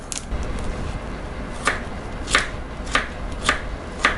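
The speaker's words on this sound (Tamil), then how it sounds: "இதே மாதிரி நம்ம கட் பண்ணி வச்சுக்கலாம் சின்ன சின்னதாக" A knife chops chayote (chow chow) into small pieces on a board, about five distinct, fairly loud cuts at a slow, uneven pace after a stretch of quieter handling, with no talking.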